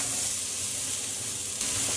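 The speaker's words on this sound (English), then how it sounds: "we're going to start by adding in 2 tablespoons of oil. And the first thing we'll add in is our onion." Onion cooking in two tablespoons of oil in a pot on medium heat, a steady, even sizzle and hiss that holds close and constant throughout with no talking.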